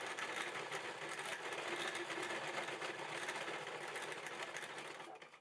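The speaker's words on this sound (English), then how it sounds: "I'm going to stitch that across" A sewing machine running continuously as it stitches fabric loops onto a bag strap, a fast, even mechanical whir and clatter that stays steady before slowing to a stop at the end, fairly quiet.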